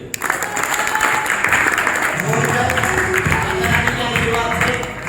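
An audience at a network marketing event bursts into sustained, loud applause right after a brief onset, with many hands clapping densely and steadily throughout.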